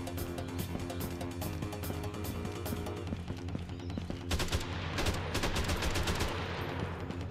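AK rifle fire in the video game Jack Styler, rapid continuous bursts of automatic gunfire layered over loud game music and effects, growing denser toward the end.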